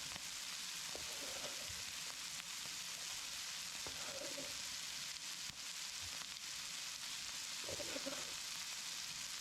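Mushrooms, red onions and green peppers fry in a pan with a dense, steady sizzle that never lets up, broken now and then by faint stirring scrapes.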